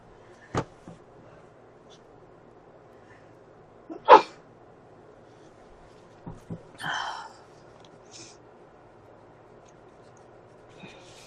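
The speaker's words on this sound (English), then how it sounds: "I feel a sneeze coming on again." A person sneezes once, close and loud, amid quiet rustling of someone coloring; a few softer breaths, sniffs and small bumps scatter around it.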